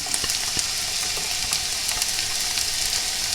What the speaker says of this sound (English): the first thing we want to do is to just sweat off the onions over a medium heat